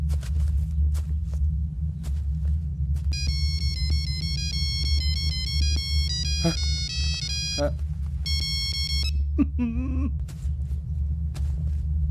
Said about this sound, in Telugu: ring tone sir, ring tone